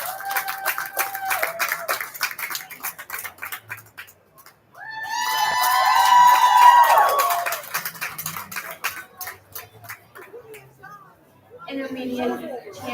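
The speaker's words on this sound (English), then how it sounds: "Let's give all of them a round of applause" Applause from a county fair crowd at a 4-H swine show, bursting up loud and dense in the middle after an announcer's voice, then fading back under talk.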